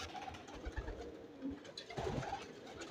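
A domestic flying pigeon cooing softly in a loft, low murmuring coos at a moderate distance with faint background rustle.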